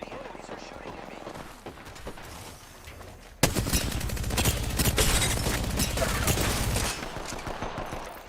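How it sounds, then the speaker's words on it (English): Enemy gunfire in a shooter video game: loud, dense bursts of rapid shots start abruptly partway through and continue steadily over a quieter stretch, with a player talking underneath. "The enemies are shooting at me"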